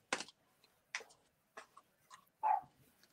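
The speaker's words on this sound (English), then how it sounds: "My dog's driving me nuts." A dog barks a few separate times somewhere in the house, sharp yaps spaced about half a second to a second apart, faint and distant, the last bark more drawn out, with no talk.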